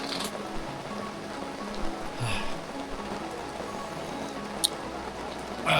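Steady rain patters on surfaces on Gunung Gede mountain near Cibodas, a dense close hiss of drops with a few sharper splashes and knocks standing out.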